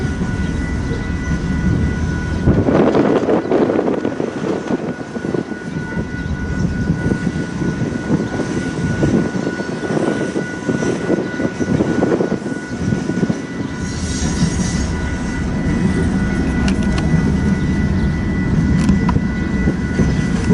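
The rear DPU locomotive of a westbound grain train rolls past in Fremont, Nebraska, with loud sustained rumble, wheel noise and swells of engine roar, a high faint tone running throughout.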